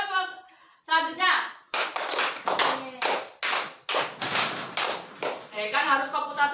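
A class of young schoolchildren claps through a counting game, bursts of loud, fairly rhythmic group claps following brief spoken instructions from an adult.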